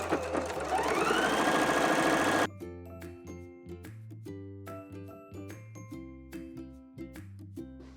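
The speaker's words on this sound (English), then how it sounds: "Now we're going to do a top stitch all the way around the neckline of the bodice." A sewing machine runs a top stitch around the neckline of a wrap dress bodice, a loud, fast whirring motor for a couple of seconds, followed by a run of light, tinkling musical notes.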